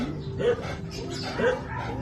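A 10-month-old female German Shepherd gives two short, deep barks about a second apart, near and clear above a busy pet-market background.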